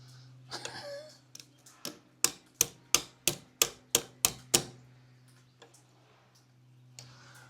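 Sharp metallic taps struck against a stuck rear brake lever on a BMW GS 1250 motorcycle, about ten evenly spaced hits in a steady rhythm, close and crisp over a low electrical hum, with a few softer knocks before and after.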